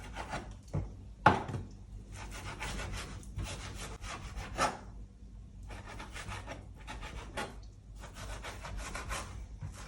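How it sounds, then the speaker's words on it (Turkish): A kitchen knife cuts food into small pieces on a board, first lengthwise, giving scattered close dry scraping and chopping strokes in an uneven rhythm, with one sharper knock near the start. "Şimdi böyle küçük küçük keseceğim. Önce bir uzunlamasına keseyim."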